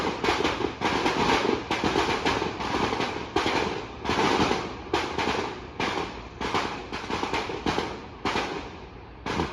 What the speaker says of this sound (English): I heard a bunch of gunshots